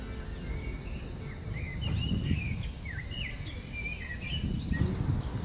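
House sparrows chirp in Paris, a scatter of short bright calls and tweets of moderate loudness over steady low city rumble, with no talk.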